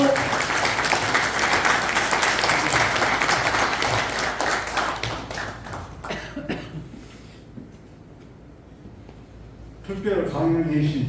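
Audience applause at a Korean political gathering: dense, loud clapping that fills the first several seconds, then thins out and fades, before a voice begins speaking near the end.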